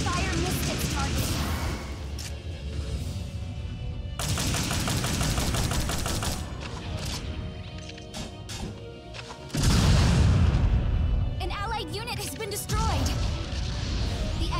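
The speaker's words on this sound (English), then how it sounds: "Long-range supported fire incoming." Long-range artillery support fire erupts in the mobile suit battle game Gundam Battle Operation 2, with dense rattling gunfire and heavy booms layered continuously throughout, loud and close, swelling into a stronger barrage near the end.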